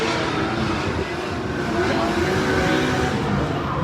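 Turbocharged engine of a drift car at a Formula Drift event, a loud sustained roar with rising and falling pitch against steady background rumble, no voices heard.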